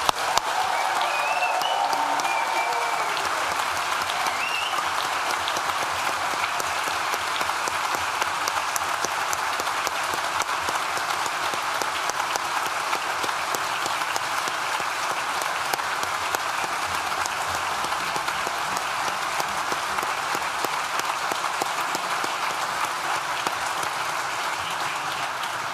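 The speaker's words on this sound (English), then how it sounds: "let's give them one last round of applause" Sustained applause from a large graduation ceremony audience fills the hall, dense and steady for the whole stretch, with no voices standing out.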